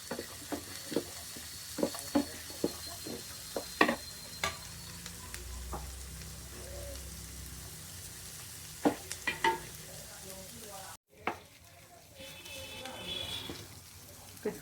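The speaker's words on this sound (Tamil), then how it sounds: "லைட்டாக வதக்கிக்கலாம்." Cashews and soaked almonds are being sautéed in a pan for pistachio chutney, with a soft, steady sizzle and scattered scraping and clicking from stirring that continues throughout.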